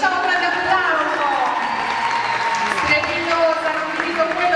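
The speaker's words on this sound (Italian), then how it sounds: "facciamo un grande applauso" Audience applause and cheering at a 2013 dance school end-of-year recital finale, a steady dense wash of clapping from a crowd, with an announcer's voice over it.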